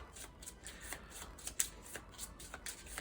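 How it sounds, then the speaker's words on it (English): Playing cards from a Power Rangers Heroes of the Grid board game shuffled by hand, a fast run of soft riffling flicks and papery snaps, close and alone with no talk. "take all of my cards and shuffle them back into my deck"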